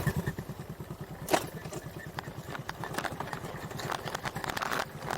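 A Honda Aerox 155 motorcycle engine putters unevenly nearby, with rattles and knocks as it rolls over a bumpy rural road.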